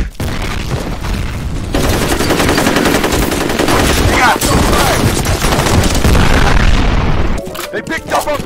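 Rapid automatic gunfire and explosions in the online shooter FEAR Combat, loud and dense bursts running almost continuously before cutting off near the end.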